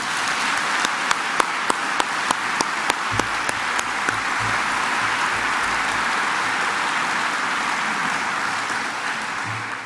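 An audience at a yacht race prize-giving ceremony applauds with steady, dense clapping that sustains for about ten seconds, with a few sharper individual claps standing out early on.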